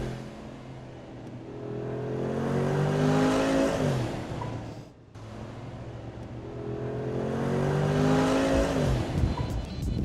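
The engine of a Mercedes G-Wagen 6x6 roars up in two rising revs, each climbing in pitch and loudness before briefly dropping off, heard close with no talking.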